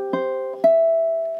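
A short ukulele riff from a song plays as two plucked notes. The second note rings out and sustains cleanly, with no talk over it.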